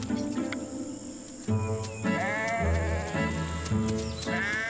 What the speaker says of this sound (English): From time to time, grazing sheep wander into the field around the trees.